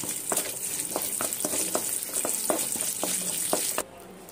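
Tempering of two chillies, cumin, urad dal, mustard seeds and curry leaves sizzling in hot oil for a thotakura nuvvulu pickle, a steady crackle with repeated spoon taps on the pan before it cuts off abruptly.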